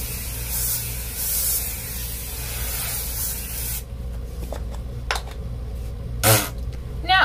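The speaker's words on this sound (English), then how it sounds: "More hairspray." Hairspray hisses from an aerosol can onto hair extensions in a steady close burst that stops abruptly partway through, followed by soft handling noises and a short later spritz.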